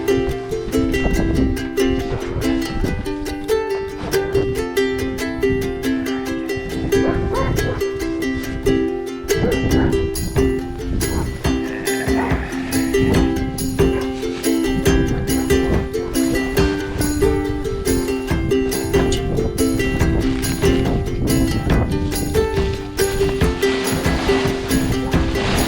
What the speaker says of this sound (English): Start the snowblower.